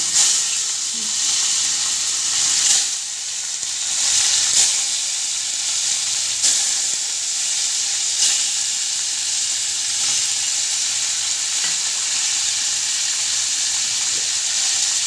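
Bhetki fish frying in hot oil in a covered pan, giving a loud, steady, close sizzle and hiss that runs unbroken for the whole stretch, with no voices.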